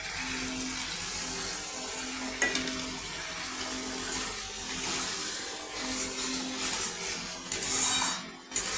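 Water poured into spice paste sizzling in oil for a spicy tilapia curry, a steady close hiss and bubbling crackle with a few clinks of the pan.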